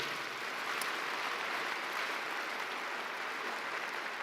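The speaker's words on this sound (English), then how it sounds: "Please join me in a round of applause and a thank you for everyone they represent." Faint, distant applause from a large audience at a graduation ceremony, a soft, even wash of clapping that holds steady throughout with no voices over it.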